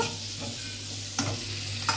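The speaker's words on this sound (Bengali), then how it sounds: "আলুটাকেও বেশ সুন্দরভাবে আমি এরকম লাল লাল করে ভেজে নেব" Potatoes seasoned with salt and turmeric fry in hot oil, a steady close sizzle broken by a few scraping stirs of the spatula, with no voices.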